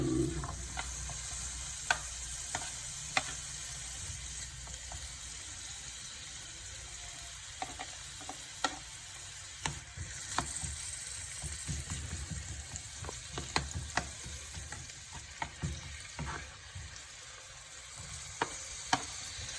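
Onion sizzling in hot oil as it is stir-fried with corned beef and minced pork, a steady bright crackle running throughout, punctuated by sharp clicks and scrapes of a utensil stirring against the pan.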